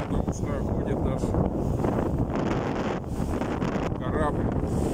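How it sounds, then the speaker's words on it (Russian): Strong wind buffets the microphone on a boat on the Amur River in waves, a steady, loud roar covering the whole stretch, with rushing water faintly underneath. "И в этом ветер уже крепкий. Достаточно сильный."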